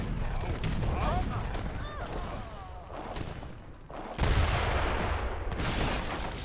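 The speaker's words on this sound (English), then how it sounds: "now you see the assault going in with the mortars" Mortar and gunfire from an assault in a strategy video game, dense bursts of shots and booms crackling continuously with a heavier impact partway through, over game effects and commentary chatter.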